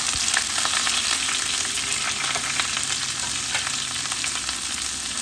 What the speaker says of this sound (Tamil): நம்ம உருளைக்கிழங்கு அதில் போட்டு நம்ம நல்லா அதில் பரட்டி எடுக்கணும், ஃப்ரை பண்ணணும்